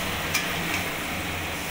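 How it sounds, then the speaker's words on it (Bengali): Spices are stirred in hot oil in a pan for chicken pasta, giving a steady close sizzle with a couple of faint scraping strokes. "ভালো করে নাড়াবো যতক্ষণ না তেল ছাড়ছে, ততক্ষণ পর্যন্ত ভালো করে নাড়িয়ে নেব আমি"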